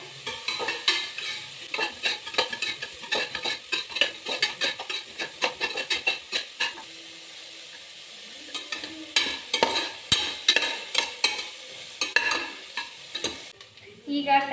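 Onions frying in a pan for peas palav, with repeated bursts of stirring and sizzling scrapes in uneven rhythm, a brief quieter lull midway, then more stirring, heard close and moderately quiet.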